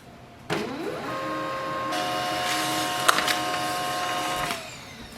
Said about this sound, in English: So we have to print the printer's password and name of its Wi-Fi.